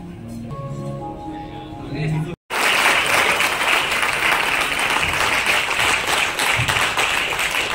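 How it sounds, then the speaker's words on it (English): A large audience at the Bandaa movie trailer launch with Manoj Bajpayee bursts into loud, sustained applause after a short musical passage and a brief gap, the dense clapping filling the room for several seconds. "can we please continue to keep clapping for the people who are responsible"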